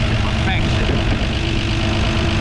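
A 1954 Ford F100 truck, abandoned for 39 years, with its engine running at a steady low idle rumble, close and loud and continuous, with a voice talking over it.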